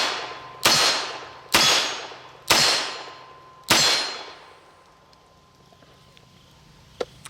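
A Colt Official Police revolver snaps through double action four times, each sharp metallic clang ringing out and decaying, at an uneven slow rhythm, followed by quiet and one faint small click near the end.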